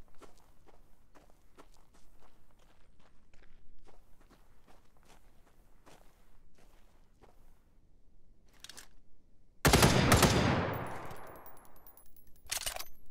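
Gunfire from a gun in the survival game The Front: steady footsteps give way to one sudden, very loud blast with a long fading tail, then another sharp burst near the end, with no voices.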